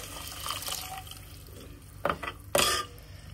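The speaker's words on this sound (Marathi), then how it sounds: "आता याच्यामध्ये जे काकडीचं पाणी आहे ते घालून घ्यायचं" Cucumber water being poured into a cooking pot during preparation of a Konkan cucumber cake, heard as a soft wet gush near 2.0 s and a louder splash at 2.6 s, close by, with no talk.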